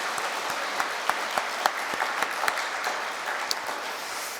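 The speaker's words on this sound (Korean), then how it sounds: "우리 박수로 모두 함께 격려하십시다." A church congregation at a Sunday afternoon service applauds parents and teachers, steady dense clapping from many hands with a few sharper nearby claps standing out, sustained for several seconds without talk.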